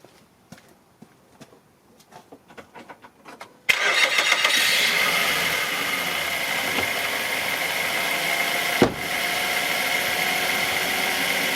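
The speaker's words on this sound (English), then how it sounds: "Now let's start the car and let's see how it goes." A 2006 Mazda 5 with newly replaced drive belts cranks and fires up, then settles into a steady, smooth idle close by. A single brief knock or click sounds partway through, and nobody speaks.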